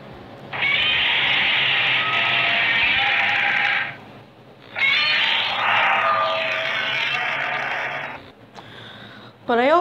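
A voice imitates Godzilla's long, strained roar, holding a raspy bellow for a few seconds, pausing, then roaring again and ending with a rising squeal.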